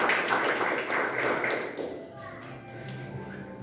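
A church congregation claps in a dense, loud burst of applause that fades after about two seconds, leaving quieter shuffling and faint voices.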